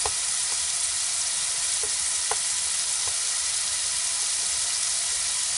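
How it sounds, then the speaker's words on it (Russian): Tomatoes and four sausages frying in hot vegetable oil in a pan, a steady dense sizzle throughout with a few faint clinks, close and even in level. "Накалил сковородку, 2 помидорины растительного масла. Сосисочки 4 штуки."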